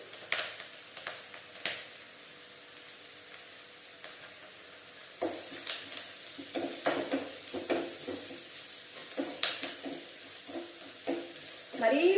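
Onions frying in a pan for a quick poori curry, a quiet continuous sizzle broken by intermittent stirring and scraping of a utensil against the pan, close but fairly soft, with no talking.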